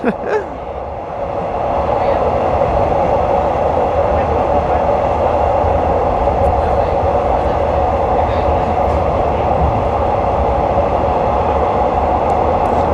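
Thai commuter train rolling from Don Mueang toward Krung Thep Aphiwat station on a scenic evening ride, a steady loud rumble of wheels and carriage noise heard from onboard, continuous and unbroken throughout.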